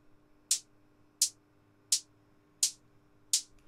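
Five evenly spaced hi-hat hits from a jump-up drum and bass track, each with a short randomized vocoder noise tail so every hit sounds slightly different, bright and crisp, played alone.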